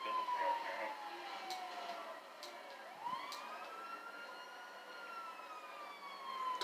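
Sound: siren in GTA video game

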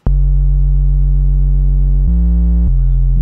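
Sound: synth lead of sine and square waves in Serum

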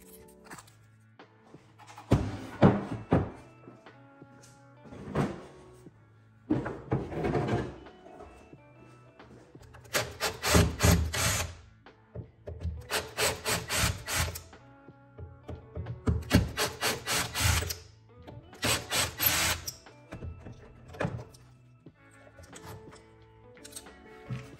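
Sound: wooden furniture drawers sliding on their tracks

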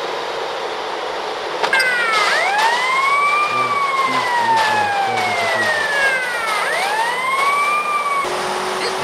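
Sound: indestructible police car siren in a video game

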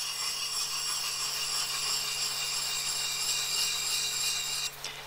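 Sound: scrub plane blade being sharpened on a stone

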